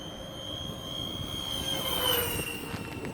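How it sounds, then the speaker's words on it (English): A radio-controlled Airbus A380 model makes a fast low pass. Its whining, jet-like engine tones swell as it nears, peak, and then shift downward as it goes past. "Here, we'll do a high-speed pass here."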